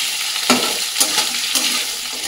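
Potato and carrot pieces fry in hot oil with a steady bright sizzle, broken by a few louder bursts as the pan is stirred.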